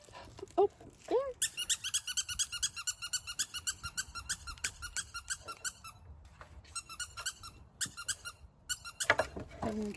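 A squeaky dog toy squeaker for a black Labrador puppy at an outdoor fall photo shoot sounds in long runs of rapid, sharp squeaks, nearly continuous with brief gaps, alongside a few short vocal sounds.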